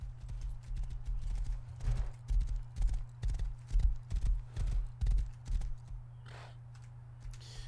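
Horse hooves clip-clop in the Rust video game, a steady run of hoofbeats that keeps halting and restarting over a constant low hum, with a brief whinny near the end.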